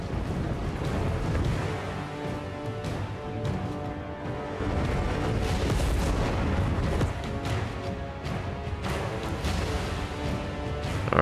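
Cannons fire across a Total War: Warhammer III battlefield, a dense, continuous barrage of booming artillery blasts overlapping with clashing battle noise and music, loud and sustained throughout.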